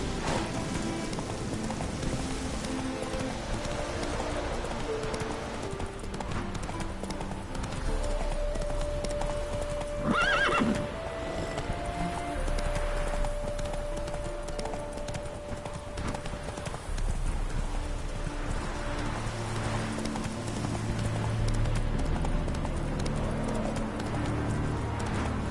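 The horse Roach from The Witcher 3 galloping, with rhythmic hoof clip-clop running throughout over a rainy ambience, a brief whinny-like cry in the middle, fairly close and steady.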